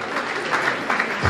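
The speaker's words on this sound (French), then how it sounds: "Est-ce qu'on peut bien l'applaudir s'il vous plaît?" Brief, steady applause from an audience at the Nzonzing Awards ceremony, a dense wash of clapping hands lasting just over a second.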